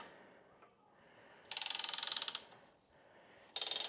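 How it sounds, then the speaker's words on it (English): Ratchet clicking on a Kuat Piston Pro bike rack as a wheel is tightened down, two close bursts of rapid, evenly spaced clicks separated by a quiet pause. "Then you tighten in your wheels like that."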